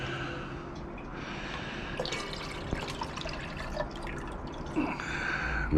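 Iron solution is poured into a gold-bearing solution during gold recovery from RAM and BGA chips, giving soft, steady liquid dripping and trickling with a few small splashes, close and fairly quiet.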